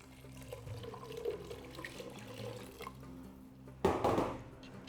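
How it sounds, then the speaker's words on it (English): Water splashes and pours into a pot of chickpeas for harira soup near the end, with a brief quieter trickle before it, over a low background hum. "Add the water."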